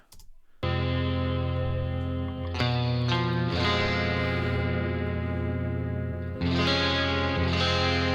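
An electric guitar outro played as four layered, unison parts rings out with sustained, washed notes soaked in reverb and delay, with chord changes near three and six seconds and no talking.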